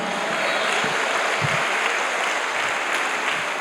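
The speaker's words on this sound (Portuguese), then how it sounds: "Aplauda o Senhor, dê um brado de vitória" A church congregation at a Baptist communion service applauds, a broad, continuous roar of clapping that stays steady and fairly loud from start to finish.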